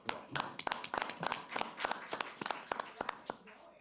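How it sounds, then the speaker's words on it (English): Scattered applause from attendees at a city council meeting in Oldsmar, Florida: a handful of distinct, fairly quiet hand claps at an uneven rhythm, heard close and alone. "Give her a round of applause"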